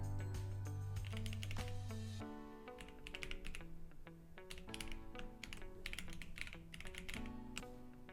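Rapid typing on a computer keyboard, a dense stream of close, crisp key clicks in uneven bursts, heard alone over soft background music while an email address is entered.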